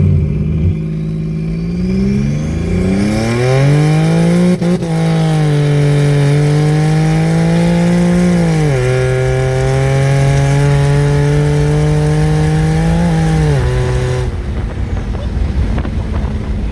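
A turbocharged car with an AMR turbo kit launches and accelerates hard, its loud engine note climbing steadily through gears with brief shift dips, close and sustained for about fourteen seconds, with no talk over it.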